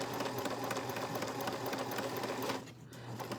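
A home sewing machine stitches fabric at a steady, fast mechanical whir with rapid needle chatter, running loud and close before dropping briefly near the end.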